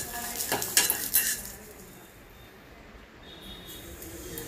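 Vegetables fry in a pan for a Vankaya pachhadi, with a soft sizzle and a few clinks of a utensil stirring against the pan near the start, then a quieter steady hiss.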